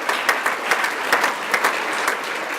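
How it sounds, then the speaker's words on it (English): Audience at a bank convention applauds, a brisk, even wash of many hands clapping close by, steady and without speech over it. "So I want to give a big applause for that."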